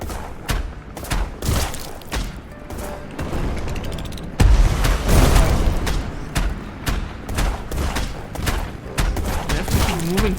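Rapid bursts of gunfire in the Black Skylands action game, dense repeated shots and booms with a heavier thump midway, loud and continuous across the scene.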